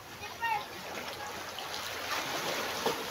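Sea water washing and splashing at a beach, a continuous wash with small splashes, while people and someone talk over it.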